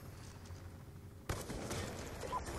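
A sharp, loud sniper rifle shot from Black Ops 2 cracks out partway through, after a quieter stretch of game ambience, with the noisy tail of the report and surrounding gunfire filling the rest.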